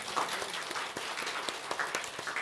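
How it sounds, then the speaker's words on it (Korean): Congregation applauding during a Korean Sunday church thanksgiving service, a dense, steady patter of many hands clapping in a large room, continuous for a few seconds without speech. "하나님께 영광과 감사의 박수 돌려드리기를"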